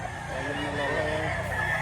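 A Gilmore Hatch gamefowl rooster at a breeder's yard in Lipa, Batangas gives a drawn-out call over a steady background of other fowl and a low voice nearby.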